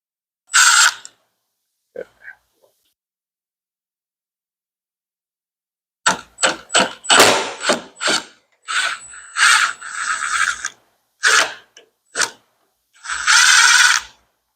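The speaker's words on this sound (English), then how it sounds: "So I'm going to go ahead and get the tools, unbolt those" A ratchet works loose the headlight bolts on a 2023 Ram Promaster: after a few faint early clicks, several close, sharp bursts of rapid ratcheting follow, separated by short pauses, with no talking.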